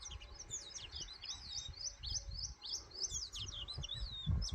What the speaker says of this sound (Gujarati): ચકલીઓ જો બોલે છે તમે સાંભળો